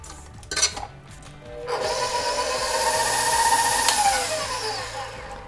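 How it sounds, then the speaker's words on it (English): An electric mixer whirring through gingerbread cookie dough in a bowl, after a few clanks and knocks, then running as a steady, fairly loud buzzing drone that rises slightly before easing off. "mix those until they're well combined"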